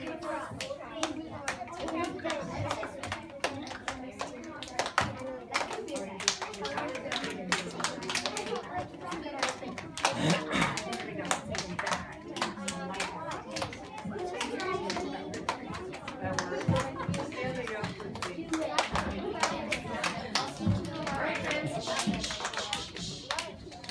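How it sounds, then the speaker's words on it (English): Second-grade children in a music class clap hands with partners in a hand-clap game, a steady run of overlapping claps and taps throughout, with children chattering and talking over the clapping. "Did you and your partner choose a different hand clap than your other partner?"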